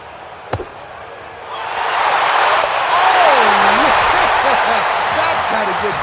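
A golf gallery at the 16th hole, a short drivable par 4, breaks into swelling applause and cheers after a bunker shot is holed. A sharp impact comes first, then the roar builds and holds loud, with a commentator speaking over it.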